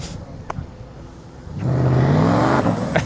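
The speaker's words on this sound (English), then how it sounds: "Let's see if I can get them to rev it. I rev it." A GWM Boxer eight-cylinder motorcycle engine at a Chinese motor show revs up after quiet background noise, swelling into a loud, steady, close-up roar that holds and wavers for over a second.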